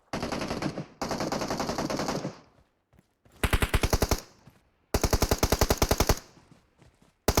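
Automatic gunfire rings out in PUBG Mobile, fired in several sustained bursts of rapid, evenly spaced shots. Brief silences separate the bursts, and a final shot starts at the very end.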